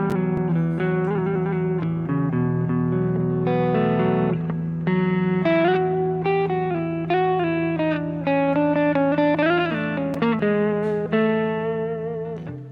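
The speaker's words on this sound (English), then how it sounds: "with this kind of edge of distortion sound, you can get both a clean sound" A PRS Tremonti Baritone electric guitar with its bridge pickup set to an edge-of-distortion tone, playing low chords and single-note runs with gritty sustain and light reverb, heard alone.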